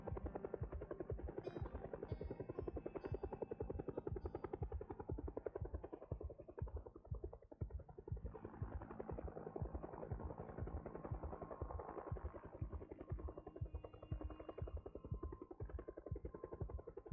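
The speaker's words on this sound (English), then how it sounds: "Perfect timing for a helicopter event." A helicopter in the video game Project Zomboid passes overhead with a low, rapid rotor thump that throbs continuously and evenly throughout, quiet and distant-sounding, with no voices.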